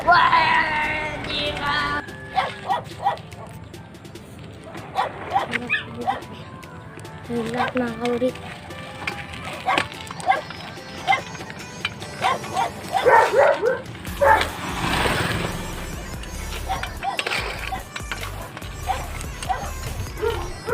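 Several dogs bark in bursts, some yipping and whimpering, at moderate distance behind steady Filipino talk, with footsteps and outdoor background noise.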